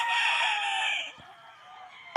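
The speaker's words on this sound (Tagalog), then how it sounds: "Napakagaganda ng mga manok naman nila dito mga boss." A rooster at a large poultry farm in San Rafael, Bulacan lets out a loud, sustained crow that fades after about a second, with quieter hens and a brief knock following.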